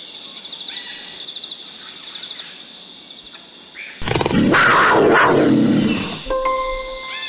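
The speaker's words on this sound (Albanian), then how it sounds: "Çfarë tingulli bën pantera?" Amid chirping insects and birds, a big cat lets out a harsh, rough growl for about two seconds, loud and close.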